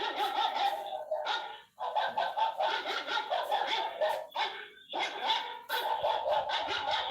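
Several dogs barking loudly and close in rapid overlapping volleys, nearly continuous with a couple of brief pauses.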